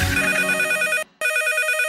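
A telephone bell rings loud and close in two bursts with a short silent gap between them, with no voices over it, during a comedy radio skit.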